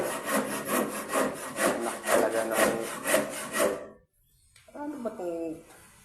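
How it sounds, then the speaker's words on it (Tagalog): A hand saw cuts through wood in steady back-and-forth strokes, loud and close, then stops abruptly. After a brief silence a person speaks. "Yung lagari, kalahati na rin, no? Mapuputol na."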